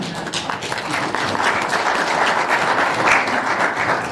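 An audience at a Nigerian embassy independence anniversary event bursts into warm, sustained applause, many hands clapping densely and evenly throughout with no voices on top.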